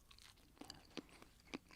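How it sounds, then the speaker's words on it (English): Close, quiet chewing of a banana, a few soft moist crunches and bites spaced irregularly over a faint background. "You just have to listen to me chew a banana now."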